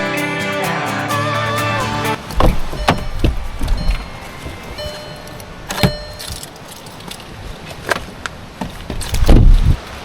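Opening a newly bought car to switch its lights off: a short tonal chime, then close, loud clunks and clicks of the door and handling, with keys jangling and several sharp knocks spread over the clip.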